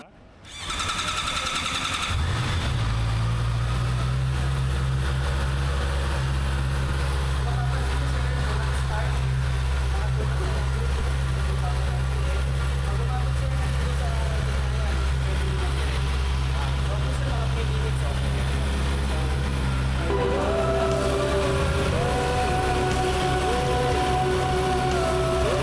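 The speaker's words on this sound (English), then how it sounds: "The first time my brother-in-law is starting his bike." Honda CB650R motorcycle with e-clutch starting up, then settling into a steady, close, rumbling idle that holds for the rest of the stretch, with a faint tonal sound joining near the end.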